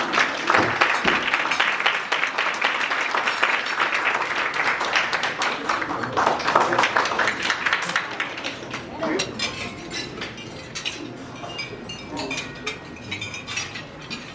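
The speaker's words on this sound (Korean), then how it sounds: "입장하시는 선배님을 위해 박수 한번 부탁드립니다." Applause from a crowd at a rowing club's 60th anniversary ceremony, loud at first and tapering off, with scattered claps and some clinking mixed in.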